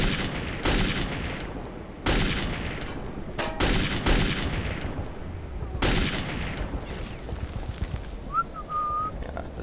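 Gunfire in Metro 2033 comes as several sharp, loud shots at irregular intervals over a low background, with a brief high whistle near the end.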